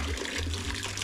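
Water runs and trickles steadily as a man washes himself outdoors in the heat, a continuous close splashing wash with a low hum underneath and no talk.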